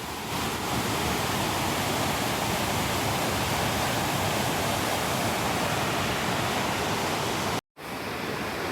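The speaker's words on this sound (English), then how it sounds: "I'm gonna enjoy myself by this waterfall." A waterfall roars as a loud, steady wash of rushing water that fills the whole stretch. The noise cuts out for a brief moment near the end, then returns. No voices can be heard.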